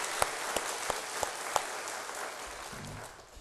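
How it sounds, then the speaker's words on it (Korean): Church congregation at an early-morning prayer service clapping together, with a few sharp individual claps standing out over a soft, steady wash of applause that gradually fades. "우리 하나님께 감사와 영광의 박수 한번 보내주시다."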